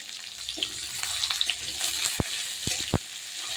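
Potatoes frying in a pan with salt and turmeric sizzle steadily up close, broken by a few sharp spatula knocks and scrapes against the pan near the end, with no voices.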